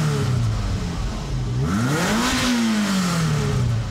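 A 1986 Ferrari quad-cam 3.2-litre V8 with 32 valves revs up in one smooth rise and falls back, heard close and fairly loud with a clattering mechanical edge and no talking.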